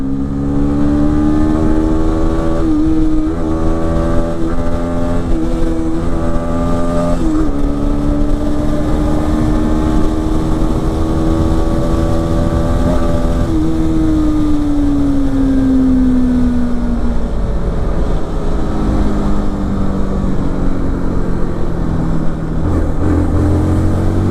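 A Bajaj Pulsar 160 NS motorcycle is ridden, its engine a loud, close, continuous drone whose pitch rises and falls through throttle and gear changes for the whole stretch, with no voices.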